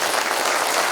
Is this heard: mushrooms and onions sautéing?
no